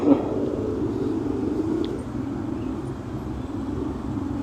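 Road traffic in Pasig, heard from a Honda Beat scooter, makes a steady low rumble of engines and wind noise throughout, with a brief louder bump at the start and no clear talk.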